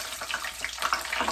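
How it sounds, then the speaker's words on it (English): Hands rinsing in a pot of water set in a kitchen sink, brief close splashing and swishing of water, with no voices. "I have a pot with water in the sink to rinse out my hands"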